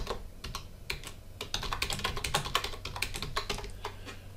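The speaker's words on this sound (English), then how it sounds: "start typing in my text" Close-up typing on a computer keyboard while entering text in PowerDirector, quick irregular key clicks that pick up pace and density partway through, with no talking.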